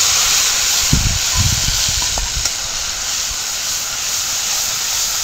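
Kashmiri chilli powder and spices sizzle loudly in hot oil in a pan as a splash of water hits them, a dense, steady hiss with a few dull bubbling bursts early on.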